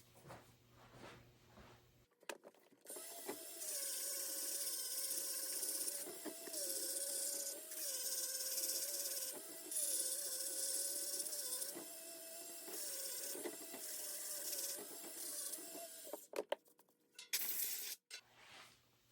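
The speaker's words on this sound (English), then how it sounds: "So I'm just going to go over that with the Dremel wheel." A Dremel rotary tool roughs up a surface on a flexible shoulder strap part, giving a sustained high whirring grind for about fourteen seconds. It wavers slightly as the wheel is pressed and moved, and stops near the end.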